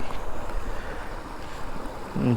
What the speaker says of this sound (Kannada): ಒಳ್ಳೆ ನೀರು ಹರಿಯೋ ಜಾಗ ಇದೆ ನೋಡಿ